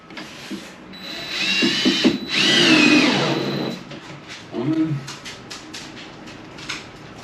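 A power drill fitted with a number 2 Phillips bit drives number 10 screws into a pantry cabinet, in short whirring bursts close by with pauses between them.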